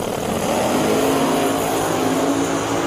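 Top Fuel drag racing cars launching off the line, a loud, steady roar of engines filling the whole stretch without a break.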